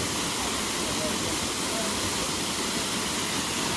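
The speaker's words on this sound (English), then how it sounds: "Most people got into the waterfall." A loud waterfall at Diamond Falls, St. Lucia, roars as a dense, even rush of white noise, steady and close the whole time.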